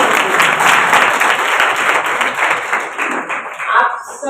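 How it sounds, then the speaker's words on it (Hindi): An audience at a school science festival applauds the child scientists, loud dense clapping that holds steady for several seconds and tapers slightly toward the end. "तो आप सबके लिए एक बार जोरदार ताली"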